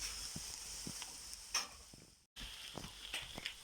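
Ingredients for a savoury pastry filling stirred in a pan with olive oil: quiet, scattered scrapes and taps of a utensil over a soft, faint sizzle, with a brief drop-out midway.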